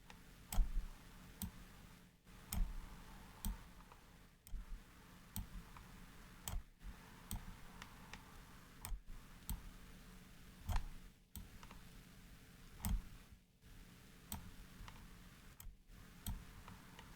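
Soft, crisp computer mouse clicks come one at a time at irregular intervals over a faint steady hum, near and quiet, with no voices.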